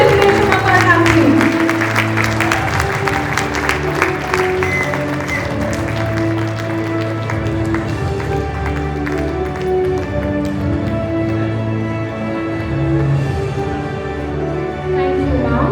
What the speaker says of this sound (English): Please, ladies and gentlemen, I request you for a very huge round of applause.